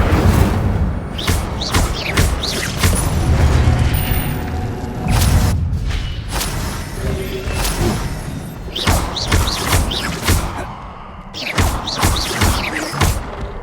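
Incendio fire spell cast again and again in the video game Hogwarts Legacy, a run of loud bursts, thuds and crashes with a heavy low rumble that comes in dense clusters with brief lulls.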